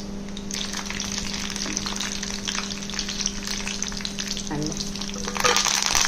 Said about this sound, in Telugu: కరివేపాకు వేగింది, పోపులు కూడా వేగుతున్నాయి కదా